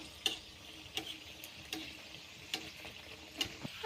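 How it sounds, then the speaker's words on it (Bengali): Mughlai paratha, a stuffed Bengali flatbread, frying in shallow hot oil, giving a quiet steady sizzle with soft crackles and several sharp ticks and pops spaced through it, alone with no voices. "দেখুন বন্ধুরা কত সুন্দর ভাজা হচ্ছে সুন্দর ফুলে উঠছে"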